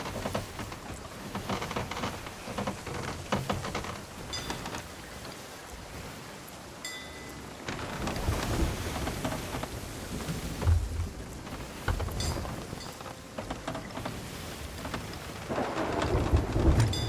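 Steady thunderstorm in the pirate game Sea of Thieves, with heavy rain hissing and pattering on surfaces and low rolling thunder swelling several times, loud and continuous with no voices.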